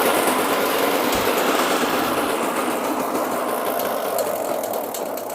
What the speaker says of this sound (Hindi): देखिए इस टाइप से मक्का भी काट के निकाल रहा है।